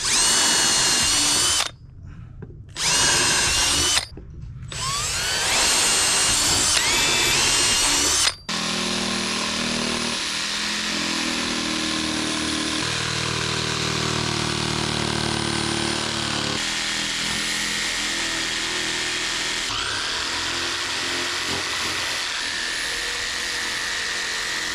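Power tool, likely a jigsaw, cutting a drawn design out of a subwoofer box beauty panel for a Sundown X-8 V3 build; loud continuous whining and buzzing with two brief pauses early, then a steady grinding cut to the end.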